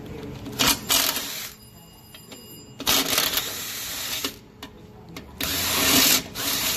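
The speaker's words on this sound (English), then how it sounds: "Take out these two shock bolts, and these are just 1/2 inch." Half-inch shock bolts being loosened and removed with a ratchet, giving bursts of rapid clicking and metallic rattling with brief pauses, close and moderately loud.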